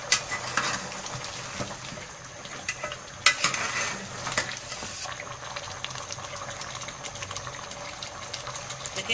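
Paya (goat trotters) cook in a pot, a soft continuous bubbling and sizzling with occasional clinks of stirring, close but quiet.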